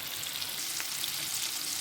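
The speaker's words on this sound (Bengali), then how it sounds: "দেখুন 3-4 মিনিট ধরে আমি আলুগুলোকে শ্যালো ফ্রাই করলাম।" Potato pieces shallow frying in oil for Bengali-style aloo dum, a dense continuous sizzle held evenly and close with no talk.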